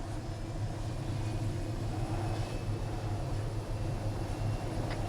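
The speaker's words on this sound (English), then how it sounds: "go ahead and press shift to spin up your helicopters" Helicopters spinning up in the military video game Arma 3, a steady low engine drone with rhythmic rotor throb and turbine whine holding at a constant level throughout.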